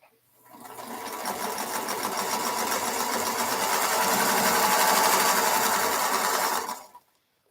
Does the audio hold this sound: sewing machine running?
yes